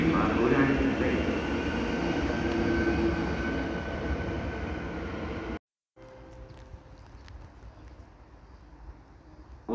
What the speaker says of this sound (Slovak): Osobný vlak zo smeru Nové Mesto nad Váhom, pravidelný príchod 14 hodín 16 minút prichádza k nástupišťu 2 koľaj 5.